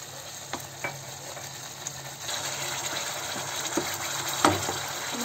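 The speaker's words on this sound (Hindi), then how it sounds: "नमक थोड़ा वाटर डाल के ग्रेवी को अच्छी तरह से भून लेते हैं" Curry gravy for dum aloo sautéing in a pan with salt and a little water: a soft, low sizzle broken by sharp clinks and scrapes of a spoon against the pan, close and without speech.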